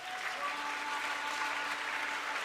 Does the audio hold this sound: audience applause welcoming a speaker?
yes